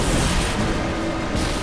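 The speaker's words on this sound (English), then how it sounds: "He's like depositing remote mines and then exploding them." Remote mines exploding in the video game Bloodborne, a continuous loud, dense roar of blasts filling the short stretch with no pauses.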